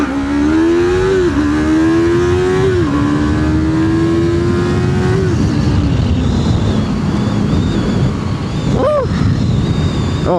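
Yamaha R3 motorcycle accelerating through the gears on a road, engine pitch climbing and dropping at each shift, loud and close under heavy wind rush.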